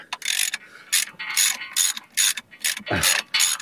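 A ratchet tightens the clutch bolts on an Iveco Daily van during a clutch replacement, giving about eight quick, close clicking bursts of pawl ratcheting separated by short pauses.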